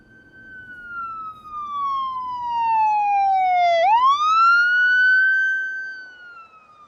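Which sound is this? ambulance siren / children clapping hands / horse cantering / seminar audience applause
ambulance siren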